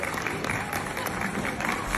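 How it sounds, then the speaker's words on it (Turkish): Audience applause at an award ceremony, a dense, continuous crowd clapping with cheering and voices blended underneath. "Kocaman alkış."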